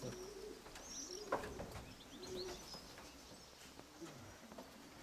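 Young pigeons coo in low, throaty bursts while wings flutter and a few small chirps come through, all close by but quiet, with soft talk in the background.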